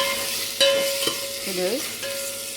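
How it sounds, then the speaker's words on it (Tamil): Onions and tomatoes sizzle and crackle in hot oil while a utensil scrapes and stirs the pan, with a brief spoken word over it. "நம்ம நறுக்கி வச்சுருக்க வெங்காயம் தக்காளியை போட்டு இதில் வதக்க போகிறோம்."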